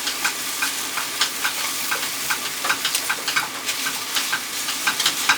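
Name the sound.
eggs frying in stainless steel and non-stick pans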